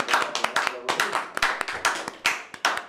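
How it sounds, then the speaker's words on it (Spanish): Close, loud hand clapping from a small group celebrating a bingo win, uneven sharp claps in quick bursts with excited voices over it. "¡Un aplauso!"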